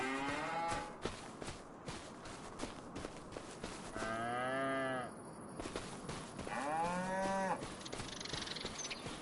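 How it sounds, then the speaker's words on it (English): Cattle in a farming simulator video game moo repeatedly, several long drawn-out lows in a row with a short gap between them, over steady farm background noise. "We got the cattle over here"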